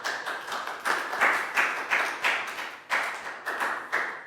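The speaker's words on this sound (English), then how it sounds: "Big round of applause for Nadia." A Year 3 English class claps for a classmate in short, rhythmic bursts of close, loud hand claps, roughly a dozen clustered beats in an even pulse, with no voices over them.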